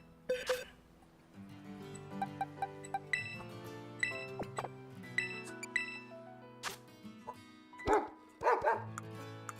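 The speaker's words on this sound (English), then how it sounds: "So it's a dog that smells like fresh bread." A cute Fairy-type dog Pokémon in Pokémon Violet yips and barks in several short bursts, with game music chimes and tones playing underneath.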